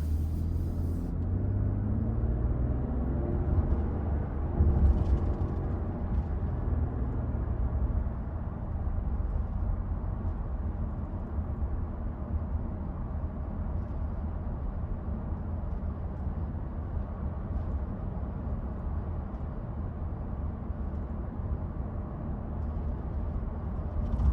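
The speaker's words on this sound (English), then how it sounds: "So as you can hear, super quiet, barely any wind noise." Inside the cabin of a 2025 Lexus GX 550 on the road, a steady, low road rumble hums quietly and evenly, with little wind noise and no talking.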